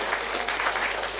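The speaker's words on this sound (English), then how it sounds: "Can I have a round of applause, please?" An audience at a real-estate panel discussion gives a round of applause, producing a dense, steady wash of clapping hands from start to finish.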